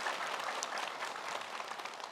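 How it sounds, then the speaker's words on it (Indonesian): A studio audience at an Indonesian religious TV show applauds in a dense, even wash of clapping, fairly faint and steady through the short stretch, with no voices. "Boleh tepuk tangan lebih semangat lagi."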